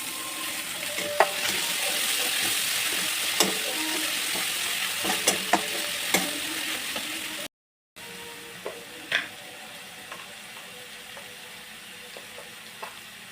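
Onion and tomato fry in a pan for a Sunday veg kheema, a steady hiss with scattered crackles and stirring clicks, briefly cut off, then a quieter sizzle resumes.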